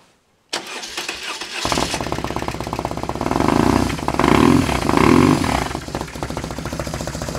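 A BMW R1100GS motorcycle fitted with a new performance chip cranks briefly and starts, then settles into a loud, steady, close boxer-twin idle. The engine swells in revs twice before easing back to idle, with no talk.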